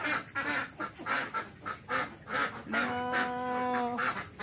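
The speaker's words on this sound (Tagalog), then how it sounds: "Nangiingay ng mga peking duck ko." Pekin ducks on a farm give a run of loud nasal quacks in quick repeated bursts, close by, ending in a longer drawn-out honking call.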